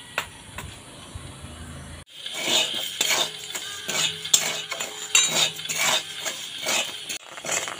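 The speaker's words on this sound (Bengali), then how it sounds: "এখন আমি একইভাবে আবারও চাল দিয়ে দেব।" Rice stirred in a hot wok on a gas stove to make puffed rice, with a short quiet stretch before steady scraping and stirring clatter starts up with a soft hiss, close and moderately loud, no talking.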